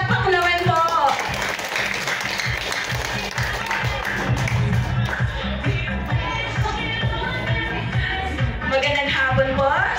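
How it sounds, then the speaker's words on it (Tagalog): Crowd clapping for a barangay leader at a Christmas gathering of IBP Pasig chapter leaders, a steady dense patter lasting several seconds, fairly loud and close, with voices mixed in. "Isang palakpak naman po."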